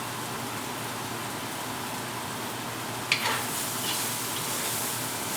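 Green beans (sijidou) stir-fry in a hot pan with a loud, steady sizzle. Partway through, a sharp clatter of stirring comes in and the frying rises slightly, with no voices.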